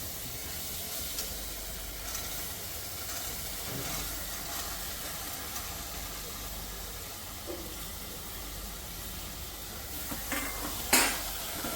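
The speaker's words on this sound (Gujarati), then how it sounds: "હવે આપણે આ ચોળા પણ એમાં નાખી દઈશું" Chola (black-eyed peas) are tossed into a hot pan and sizzle with a steady, even steaming hiss, with a few soft utensil knocks toward the end.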